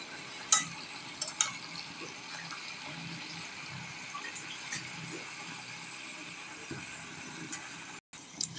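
Bottle gourd greens with potato and beans are turned over in a cooking pot with dried fish, giving a soft continuous sizzle broken by scattered scraping clicks and light knocks of the spoon.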